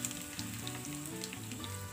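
Hot oil sizzling in a tadka with asafoetida, mustard seeds, green chilli and curry leaves, a steady crackling fizz close up, with faint stirring.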